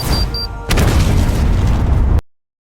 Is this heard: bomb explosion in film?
yes